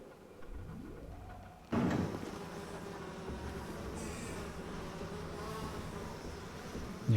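A swarm of bees buzzing in BioShock, a dense, steady droning hum that swells in abruptly and holds at a loud, close level with a low rumbling undertone.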